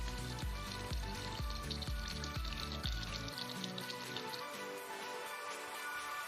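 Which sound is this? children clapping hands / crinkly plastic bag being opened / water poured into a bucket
water poured into a bucket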